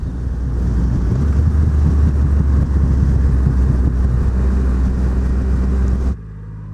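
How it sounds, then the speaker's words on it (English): A Triumph Rocket 3 GT motorcycle's big engine keeps up a steady, loud low rumble with a throbbing exhaust burble as it comes off the throttle, then cuts off abruptly near the end. "it's got a really nice burble once you're off the throttle as you're decelerating"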